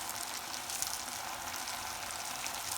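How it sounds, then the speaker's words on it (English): Eggless rose cookie batter frying in hot oil, a steady, close hiss and crackle of sizzling that runs evenly and alone without pause. "Just carefully pick it up and place it in the oil."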